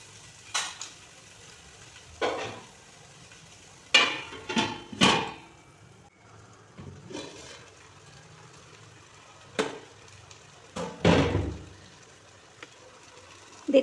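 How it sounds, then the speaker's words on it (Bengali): Boiled eggs and potatoes are sautéed in a pot for egg and potato dum biryani, with a soft background sizzle broken by spaced scraping and clanking bursts from a spoon against the pot. "এই ডিম আলুগুলোকে কিছুক্ষণ কষিয়ে নেব।"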